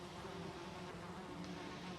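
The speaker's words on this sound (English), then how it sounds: "because the bees will take our health down a little bit" Bees buzz around a beehive in the video game Valheim: a steady, dense droning hum that stays even and continuous throughout, with no voices.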